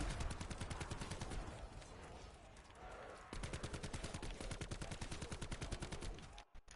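Rapid automatic gunfire from a wall-bought gun in a zombies shooter game, loud and sustained in fast continuous bursts with a short pause midway and a brief break near the end.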